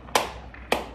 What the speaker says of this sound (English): Balconies clapping